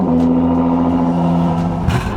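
A supercar engine idles with a steady low rumble and hum after starting, then a brief rev near the end, loud and close.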